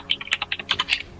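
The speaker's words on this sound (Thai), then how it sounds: "พี่หวายครับพิมพ์กับพิมพ์ดีดเลยนะครับ" Fast keyboard typing, a quick run of about a dozen crisp, close key clicks in an uneven rhythm with no talking over it.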